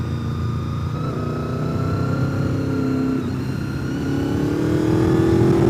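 A 25-year-old Honda VFR motorcycle riding the Tail of the Dragon mountain road at Deals Gap, its engine droning steadily and loud with a smooth rising pitch as it pulls through the curves, with no voices.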